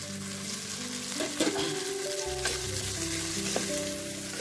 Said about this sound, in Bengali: তেলে মাছ ভাজছি